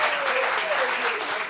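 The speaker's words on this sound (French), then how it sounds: "Applaudissements pour ça, s'il vous plaît." Steady crowd applause fills the moment, dense and continuous, with a faint voice or tone rising briefly beneath it.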